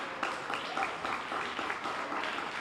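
Applause from an audience at a hall of fame induction ceremony, a steady dense patter of many hands clapping, fairly loud and sustained throughout with no voices over it.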